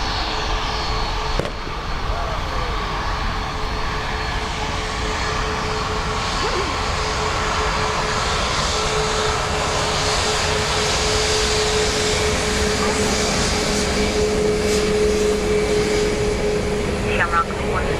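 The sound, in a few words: airplane departing Dublin Airport, passing overhead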